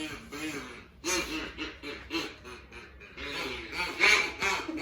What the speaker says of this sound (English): Got some folks trying to make their duck calls over here.